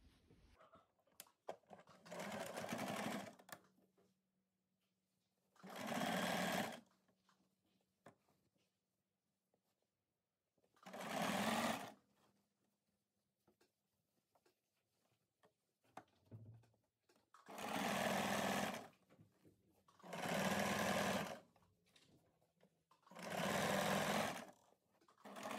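A domestic sewing machine stitches a stretchy knit sweatshirt cuff in six bursts of steady whirring, each lasting one to two seconds, separated by quiet pauses, close and fairly loud with no talk.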